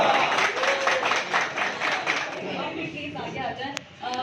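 An office team claps during a New Year 2021 celebration, a short round of applause with rhythmic hand claps that thins out toward the end, mixed with faint voices.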